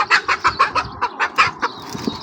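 Chickens squabbling in a fight, with a rapid series of loud, agitated clucks and squawks in quick bursts, close by and continuing for a couple of seconds.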